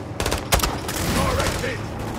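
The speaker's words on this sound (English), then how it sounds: "It's grenade launching time." In Call of Duty Modern Warfare 2, a grenade launcher fires in a combat scene, giving a sharp, loud blast followed by a dense burst of gunfire and explosions.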